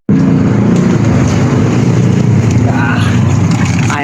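A motorized tricycle with a worn guide wheel bearing runs loud and close, its engine roar carrying a constant rattle, while someone talks over it.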